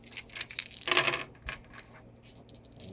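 Four X-Wing attack dice rattle and clatter across a tabletop in a quick burst of sharp clicks, loud and close, then settle with a few softer taps.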